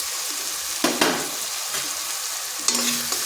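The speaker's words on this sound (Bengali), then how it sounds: "এখানে দিয়ে দিচ্ছি আদা কাঁচা লঙ্কা পেস্ট" Ginger and green chili paste frying in a pan for a fish and pointed gourd curry, crackling and sizzling loudly up close with a few sharp spatters and stirring scrapes.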